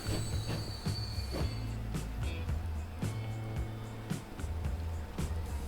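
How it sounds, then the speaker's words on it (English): A train arrives at a station in Transport Fever, its wheels clattering and squealing over the rails. Repeated clanks and screeches come in an uneven rhythm at moderate loudness. "You're gonna miss the train!"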